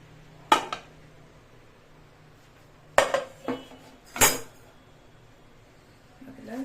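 Metal pots and a pressure cooker lid clanking in a home kitchen while cooking palak khichdi: a single sharp clang, then a cluster of three or four louder clinks and knocks, close and with quiet gaps between them.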